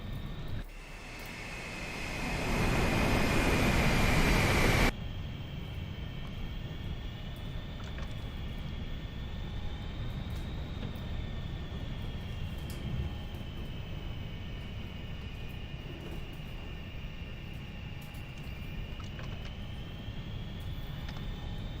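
A jet rolls for takeoff at Nellis in a VR flight simulator game, a loud broadband roar rising over a few seconds and cutting off sharply, followed by a steady engine whine and low rumble.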